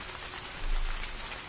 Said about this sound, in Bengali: আজ অসময়ে বৃষ্টি নামলো।